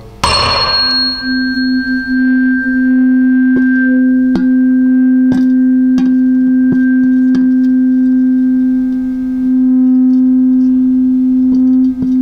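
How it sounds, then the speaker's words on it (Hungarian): A struck tuning fork vibrates above a resonance tube standing in water, giving one steady pure tone that starts with a brief strike and rings loudly and evenly for about twelve seconds, with a few faint clicks and no talking. "Tehát a hangvillát rezgésbe hozom"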